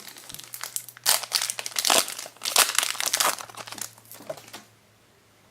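A Yu-Gi-Oh booster pack wrapper being torn open and crumpled up close, loud crinkling in bursts over several seconds, then settling into near quiet.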